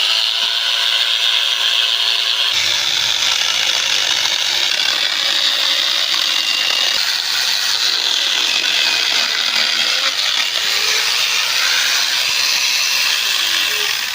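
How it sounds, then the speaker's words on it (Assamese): Angle grinder fitted with a chainsaw attachment cutting a small piece of wood, with a steady, loud, high-pitched buzzing whine and rasping chain bite running the whole time, no talking. "আহক এতিয়া আমি সৰু খৰি এডাল কাটি দেখাওঁ"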